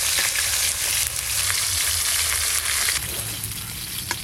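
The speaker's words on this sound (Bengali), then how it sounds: "এই যে এরকম করে ভালো করে মাছগুলো ভেজে নিয়েছি" Fish pieces fry in a pan of hot oil, a loud, steady sizzle close up, with spitting crackles and a few stirring or turning sounds, and no one speaking.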